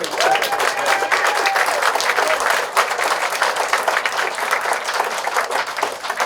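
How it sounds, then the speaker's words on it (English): A packed audience at an athletics hall of fame induction ceremony breaks into a full, loud round of applause, dense clapping sustained evenly for several seconds in a large room. "So I'd like to have a real nice round of applause for Mr."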